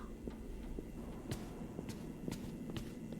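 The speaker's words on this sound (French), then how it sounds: "J'entends des bruits de pas!" Soft footsteps pad along at an uneven pace in the video game Five Nights at Freddy's: Security Breach, faint and slightly distant over a low ambient hum.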